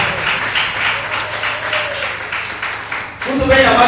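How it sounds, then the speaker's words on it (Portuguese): A church congregation claps together during a morning worship service, a steady broadband patter that swells louder near the end while voices carry on over it. "Pode sentar batendo palmas e dando glória a Deus."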